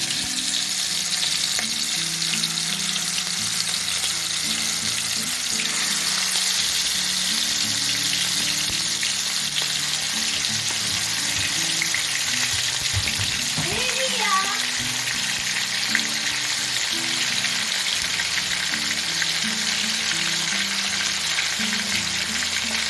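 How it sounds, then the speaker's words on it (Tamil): Crocodile meat for an Indian-style chilli fry sizzles and crackles in hot oil, a loud, steady frying hiss that continues without a break, with occasional light stirring and clinking. "எண்ணெய் காஞ்சிருச்சு. நம்ம crocodile போட்டுக்கலாம்."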